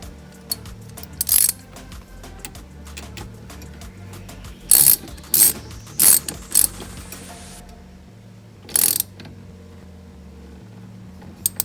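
A ratchet wrench turns a nut while a steering wheel is fitted to a 2002 Toyota 4Runner, giving several short bursts of close, crisp clicking separated by pauses, over faint background hum.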